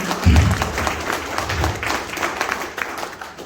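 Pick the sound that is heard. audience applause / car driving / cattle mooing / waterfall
audience applause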